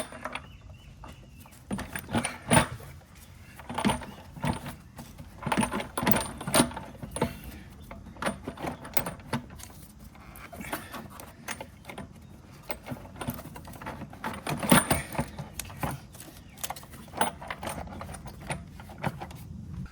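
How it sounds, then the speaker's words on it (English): A metal intake manifold on a 2017-2022 pickup truck clinks, clunks and scrapes in irregular bursts as it is worked into place on the engine, with close-up rattles and taps over twenty seconds and no talking. "take your intake manifold and work it into place."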